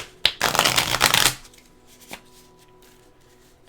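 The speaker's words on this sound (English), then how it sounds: "Let's shuffle them up a bit." A deck of tarot cards is riffled in one quick, close burst lasting about a second, followed by a single soft card tap and near silence.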